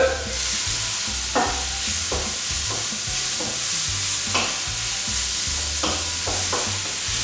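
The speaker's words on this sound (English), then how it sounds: "Give it a stir." Dry Mexican seasoning spices being stirred in a hot pan, a spoon scraping in repeated strokes against a steady loud sizzle, close and with no talking.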